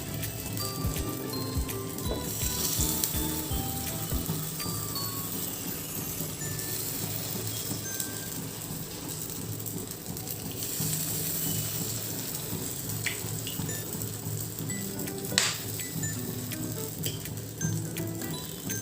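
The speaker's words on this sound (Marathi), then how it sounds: "आता आपण या आप्यांचं मिश्रण घालूया" Appe batter for fasting recipes, cooked in very little oil, is poured into a hot appe pan and gives a soft, continuous crackling sizzle. The sizzle stays faint and steady throughout, with small pops.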